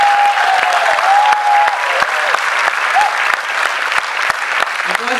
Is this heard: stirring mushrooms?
no